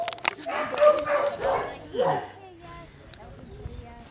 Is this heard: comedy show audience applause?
no